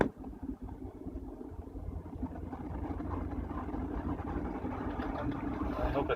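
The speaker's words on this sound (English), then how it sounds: "My car is making a weird noise." A car makes a weird noise while being driven, heard from inside as a steady low engine drone and road rumble that holds throughout, with faint voices under it.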